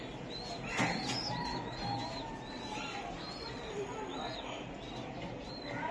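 Racing pigeons of foreign club bloodlines coo softly and repeatedly in a loft, their low rounded calls recurring at a moderate distance over a hissy background, with a brief knock near the start.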